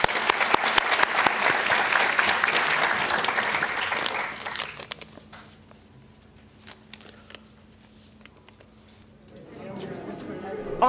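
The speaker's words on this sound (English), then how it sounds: "let's give her a round of applause." Audience applause at an evening talk and art event rings out loudly for about four seconds, then fades into a quiet room with scattered claps and faint murmuring before a swell of sound returns.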